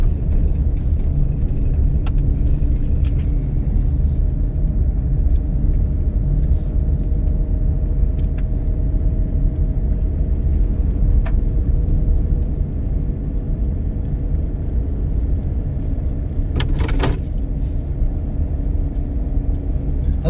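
Car driving uphill during a driving lesson in Solan, with a steady loud engine rumble and road noise inside the cabin throughout, a few faint clicks and knocks on top.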